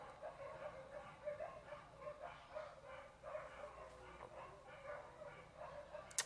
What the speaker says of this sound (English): That is our dogs.